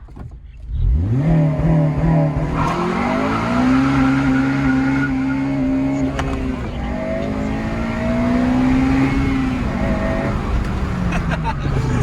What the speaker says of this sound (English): This car has launch control, guys. We're gonna have to test this out.